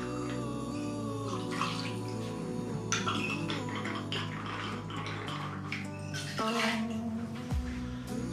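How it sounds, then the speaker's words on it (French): Liquid trickle of Grey Goose vodka, a French vodka, poured into a chilled glass, a soft, steady splashing stream with faint clinks, close and quiet over background music. "On va commencer par mettre 4 centilitres de vodka Grey Goose, une vodka française."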